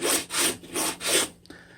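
Sandpaper rubbing along a wooden paint stir stick in four quick back-and-forth strokes, a close, raspy scratching rhythm that stops abruptly.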